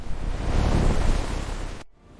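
Stormy sea with crashing waves and strong wind, a loud broadband roar that swells and holds, then cuts off abruptly near the end.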